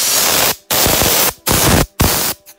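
A spray bottle sprays onto a box in four loud, hissing bursts, each about half a second, separated by brief silences, with a faint fifth puff at the end.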